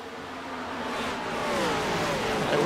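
NASCAR next-gen race cars roar past at Darlington during the Southern 500, a brief, loud, rising engine blare as the pack sweeps by.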